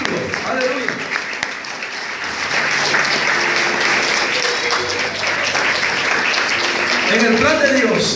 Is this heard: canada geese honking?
no